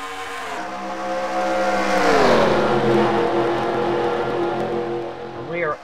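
Race cars on a restart at Daytona roar as their engines climb in pitch together, a loud, dense mix of accelerating motors with a commentator talking over them.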